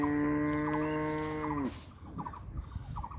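A grazing cow in an open rural field in Sylhet gives one long, drawn-out moo that fades away, followed by faint outdoor ambience.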